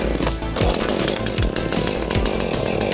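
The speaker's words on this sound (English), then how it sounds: "so yours truly had to save the working men with my trusty Husqvarna" A Husqvarna chainsaw cuts through a tree root beside a cabin, its engine snarling loud and close with rhythmic revving surges as the chain bites the wood.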